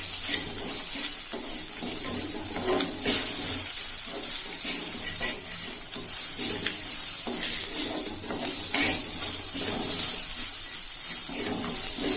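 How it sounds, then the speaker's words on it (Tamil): Turmeric, asafoetida and tomatoes sautéing in a pan for coconut milk rasam, a steady moderate sizzle and crackle with occasional stirring scrapes, continuous with no voices. "ரெண்டு நிமிஷம் வதக்கி விட்டா போதும்."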